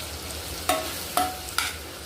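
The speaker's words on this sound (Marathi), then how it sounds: "हे असं छान मस्तपैकी तुम्ही पाहू शकता, मस्त असे गोल्डन फ्राय होत आहेत." Eggs and tomatoes fry in a pan with a steady close sizzle, punctuated by three sharp metallic spatula scrapes or taps about half a second apart, with no speech.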